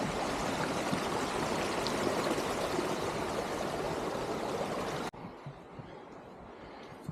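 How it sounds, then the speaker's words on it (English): A creek rushes loudly and steadily at a trail crossing on the Colchuck and Stuart Lakes trail in fall, a broad continuous wash that drops abruptly to a quieter, more distant flow near the end. "didn't take long for creek crossing number 1"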